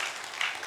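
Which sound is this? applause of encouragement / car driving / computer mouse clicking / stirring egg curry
applause of encouragement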